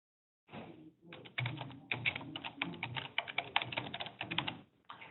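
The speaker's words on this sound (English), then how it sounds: "now I can type in a new slide" Keystrokes on a computer keyboard while entering slide text in PowerPoint: a steady run of close, crisp clicking taps after a short silent start, with brief pauses between bursts.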